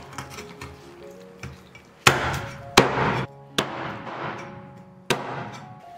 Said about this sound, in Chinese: 鸡放凉了，给它砍成块